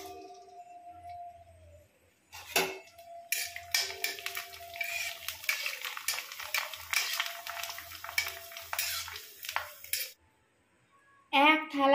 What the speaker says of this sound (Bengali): তেল গরম হয়ে গেছে